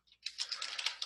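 Quiet, rapid computer keyboard typing while a line of C# code is entered, a dense run of soft key clicks lasting about a second.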